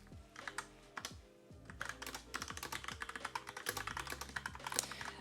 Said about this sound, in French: ASMR clavier.